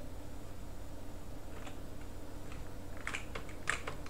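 Keys on an Amstrad CPC QWERTY keyboard are tapped a few times, sparse crisp clicks clustered toward the end over a steady electronic hum.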